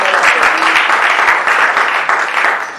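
Sustained, dense applause fills a church congregation, loud and steady throughout with no break.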